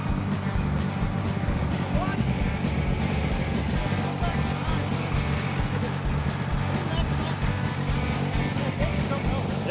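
A 1970 Arctic Cat Panther snowmobile engine running steadily nearby, a buzzing mid-pitched drone throughout with people talking over it.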